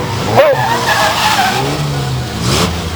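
Van spinning around during a big-van banger race at Bovingdon Raceway, loud tire squeal and skidding over roaring engines, with a commentator talking over the noise throughout.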